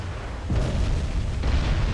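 Heavy shells strike warships in a naval battle in Ultimate Admiral: Dreadnoughts as two loud, close, rumbling booms, one right after the other, with the second rolling on to the end.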